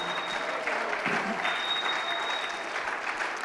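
A church congregation gives a warm, sustained ovation, thick rapid clapping from a crowd filling the hall, with a faint high tone running through part of it.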